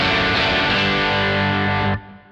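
Electric guitar through a Kemper Profiler amp set at crunch, a sustained distorted chord ringing loudly, then abruptly cut off to near silence.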